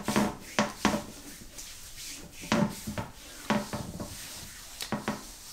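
Coconut hibiscus body butter is worked together with massage oil in a container, producing close, irregular soft rubs, scrapes and light taps of the utensil against the sides.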